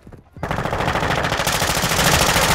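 Automatic gunfire in a video game bursts in after a short quiet moment and runs as a loud, rapid, even stream of shots that continues to the end.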